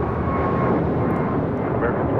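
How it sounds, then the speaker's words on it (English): An American Airlines Airbus A321neo jet takes off at LAX, a loud, broad, steady engine roar that fills the whole clip without pauses. "This is American Airlines 2596 taking off to Charlotte on an A321 Neo"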